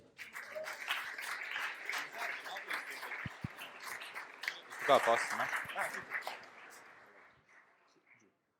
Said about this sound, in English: Big applause for you.